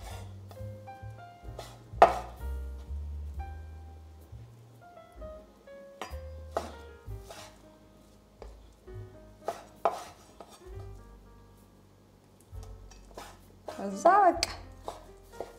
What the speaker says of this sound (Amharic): በደንብ አድርገን ድቅቅ አድርገን መክተፍ ነው።